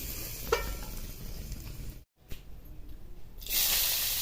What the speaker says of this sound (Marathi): मग गाजर टाकायचे त्या तुपामध्ये